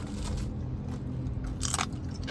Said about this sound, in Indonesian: Renyah banget ini. Kita tadi pilih yang udang.